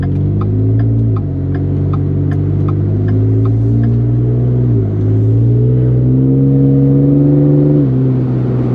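A 2012 Ford F-150 with a first-generation 3.5-litre EcoBoost twin-turbo V6 and an aftermarket cold air intake drones steadily, its pitch rising and falling in several rev swells. The engine is loud and close, with no talk.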